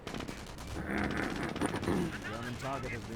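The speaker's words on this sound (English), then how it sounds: "Sniper does get gunned down by the Jeep." Rapid machine gun fire from a Jeep in Company of Heroes rattles in quick bursts amid battle noise, moderately loud, with a commentator talking over it.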